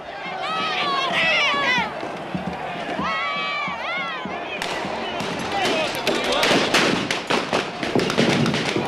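Sharp cracks and bangs of police rubber-bullet fire burst out in rapid, irregular succession amid a noisy crowd during a street riot, following a stretch of shouting voices.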